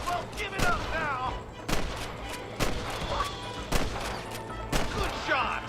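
Gunfire in Red Dead Redemption, a run of loud separate shots about once a second, each with a sharp crack and rolling echo, over a low ambient rumble, with brief voice-like sounds mixed in.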